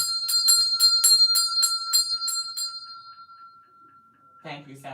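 A bell rung in a quick series of about eight bright, ringing strikes over two and a half seconds, each tone lingering and fading, then a brief voice at the end.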